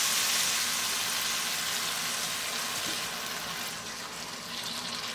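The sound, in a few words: water poured into pan of cooking chicken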